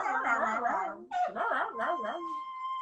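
A voice imitates a dog's whimpering and howling, with wavering whines rising and falling in a few close, plaintive bursts before trailing off.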